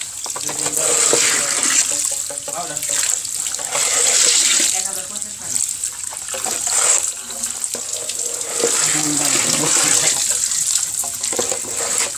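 Water pouring steadily from a tap or container for magur catfish fry, a continuous splashing rush with some swells and dips, with voices faintly audible underneath.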